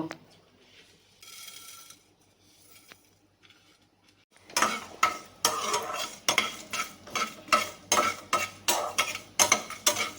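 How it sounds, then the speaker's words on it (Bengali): Cardamom, cinnamon, coriander, cumin and fennel are stirred in a dry pan with rhythmic scraping and rattling strokes, close and loud, after a quiet stretch holding a faint voice. "এক চামচে ধনে এক চামচে জিরে এক চামচে মৌরি একটু শুকনো খোলায় নাড়িয়ে নেব"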